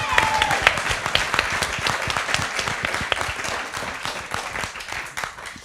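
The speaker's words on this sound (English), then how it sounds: "can we get a round of applause for paid internships?" An audience at a film premiere event applauds with steady, dense clapping that stays loud and slowly fades toward the end.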